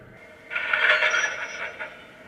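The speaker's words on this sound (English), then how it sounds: "which will play the coupler slack sound when I start the train." An MTH DCS model train plays its coupler slack sound effect, a brief metallic clank and scraping rattle of couplers taking up slack that swells and fades within about two seconds, alone and moderately loud.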